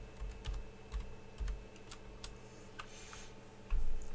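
Typing on a computer keyboard while entering a search term, a run of separate key clicks spaced irregularly at close range, a louder cluster of keystrokes near the end, with no talking.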